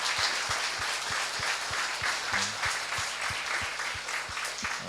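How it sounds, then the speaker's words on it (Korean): A church congregation at a mission gathering applauds the pastor with steady, moderately loud clapping from a sizeable crowd, including some rhythmic unison beats, continuing throughout. "이치원 목사님께 우리 감사의 박수를 한번 드립니다."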